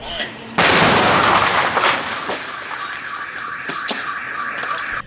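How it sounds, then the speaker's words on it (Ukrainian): A loud blast bursts out after a brief lull as found World War-era grenades are detonated on site in Ivano-Frankivsk, followed by a sustained rumbling roar and crackling debris that slowly fades. "Знайдені вибухонебезпечні предмети було знищено на місці знахідки."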